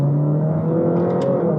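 A 2014 Ferrari 458 pulling hard in first gear, its engine a loud, steady, close drone with a rising pitch over a short burst, heard alone without talk.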